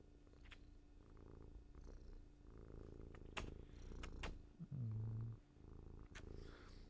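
A cat purrs in a steady low rumble, close and fairly loud, with a stronger burst near the end amid light handling and brushing noises.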